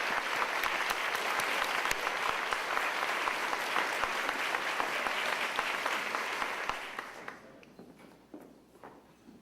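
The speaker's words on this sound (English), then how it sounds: "Please, let's give them all a round of applause." Banquet audience at an annual public health conference dinner applauding loudly and steadily for about seven seconds, then the clapping thins out into scattered, tapering claps.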